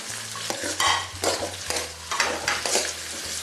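Tomatoes and green chillies sautéing in a pan for butter chicken gravy, with a spoon scraping and stirring in repeated strokes over a close, steady sizzle and a low background hum.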